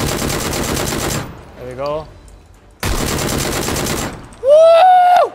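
Video game gunfire in bursts: a dense stretch of rapid automatic fire, a pause, then a second long burst, with a brief voice and a high electronic whine near the end.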